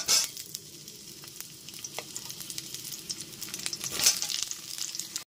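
Ridge gourd pieces drop into oil with panch phoron, setting off a lively close sizzle and crackle with spatula stirs, a louder burst toward the end before it stops.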